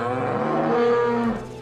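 Cattle lowing in a long, sustained moo with a rich harmonic tone, loud and close, trailing off at the end with no talk.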